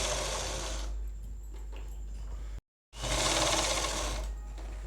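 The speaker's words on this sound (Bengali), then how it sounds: "আমি 3টে করে সেলাই দিলাম।" A sewing machine stitches fabric for a puff-sleeve blouse in two close, rapid whirring runs separated by a brief silent stop.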